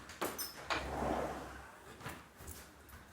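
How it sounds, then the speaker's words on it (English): A room door opens during an indoor yoga session, heard as a few faint clicks and a soft rustle at low volume with no talking. "In fact, I might just open the door a little bit."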